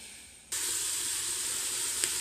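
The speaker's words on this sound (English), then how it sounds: "you can hear that doing its sizzle stuff" Steady, loud sizzling of seafood boil ingredients sautéing in an Instant Pot, a bright hiss that starts abruptly and holds evenly, close by and with no talking.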